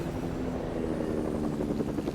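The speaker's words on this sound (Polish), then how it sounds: "On jakiś ziomek leci helikopterem." Helicopter flying in a video game, a steady close rotor drone with rapid blade chop that holds at constant loudness throughout, with no talk.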